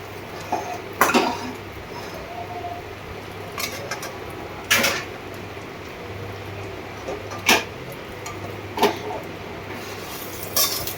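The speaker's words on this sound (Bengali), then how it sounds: "এটাকে ভালো করে নেড়ে এর সঙ্গে মিশিয়ে নেব" Sattu mixture being stirred in a wok held steady with tongs, heard as sparse metallic scrapes and clinks of the spatula against the pan, five or six sharp strikes spread out over a low steady background hum, with no talking.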